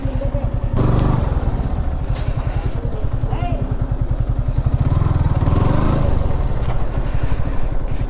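A Yamaha RX 100 motorcycle engine putters steadily at close range while the bike is parked, with a rhythmic two-stroke beat, a brief rev and people talking over it.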